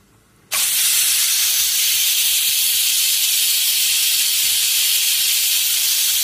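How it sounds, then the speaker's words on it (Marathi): A pressure cooker on the stove suddenly releases its steam whistle after a quiet moment. The loud, steady hiss holds without a break to the end. "कुकरच्या 3 शिट्या झाल्या."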